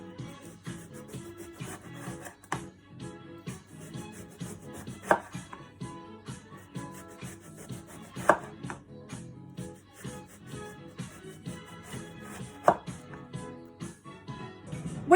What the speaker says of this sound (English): So with a knife, carefully create long slices.